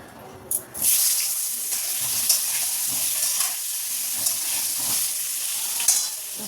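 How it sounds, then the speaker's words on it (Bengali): Cut potatoes fry in a wok of hot oil in a home kitchen, sizzling loudly and steadily after a brief clatter as they go in, with occasional stirring knocks. "এই যে আলু কেটে নিয়েছি এবার একটু ভেজে নিই"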